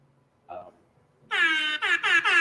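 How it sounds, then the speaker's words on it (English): An air horn blasts in a short burst that stops briefly, then sounds again in quick pulses, loud and close, with a small indistinct noise just before it. "I hear the air horn"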